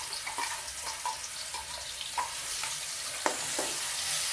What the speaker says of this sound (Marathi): तर आता हे मी फिरवलेलं कांदा आणि टोमॅटो टाकत आहे